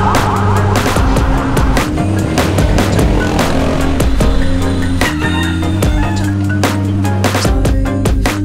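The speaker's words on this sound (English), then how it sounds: "Look at all the traffic." Loud, continuous street traffic with engines droning close by and sharp transient knocks and rattles throughout, no voices over it.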